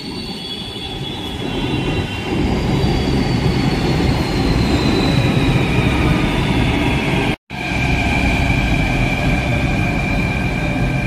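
A Jaipur Metro train runs loudly close by, with a continuous rumbling roar and high squealing wheels on the rails, briefly cut to silence midway.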